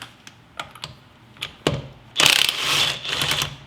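A power tool removes a nut with a few sharp mechanical clicks and ratcheting taps, then a louder burst of high, rattling impact chatter that continues in short runs near the mic.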